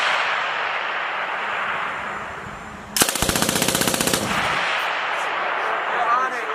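A U.S. Army M250 6.8mm machine gun fires one full-auto burst of rapid, evenly spaced loud shots lasting about a second, over steady outdoor wind noise.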